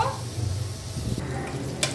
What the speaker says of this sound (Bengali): দিয়ে দিলাম এক কাপ পেঁয়াজ কুচি এটাকে আমি ভাজা ভাজা করব